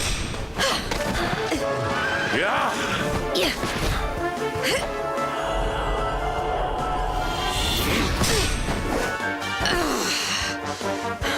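A horse neighing and whinnying in the Dragon Quest XI video game, with hooves clip-clopping, crashing impacts and battle sounds alongside character voices and music.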